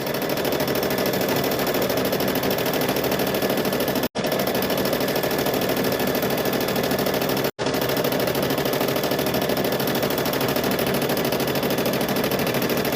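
A sewing machine runs continuously while quilting handbag fabric, a fast steady mechanical rattle close to the listener, stopping briefly twice.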